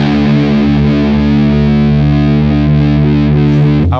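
A distorted electric guitar string rings in a long sustained note while its pitch shifts slightly during tuning by ear toward Drop D, loud and close, ending with a brief pluck, and no one talks.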